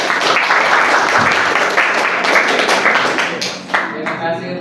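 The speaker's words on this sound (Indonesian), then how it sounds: "Beri aplaus dulu" Classroom applause for a student group presenting on the Sriwijaya kingdom, loud dense clapping from many hands that fades near the end as a voice begins to speak.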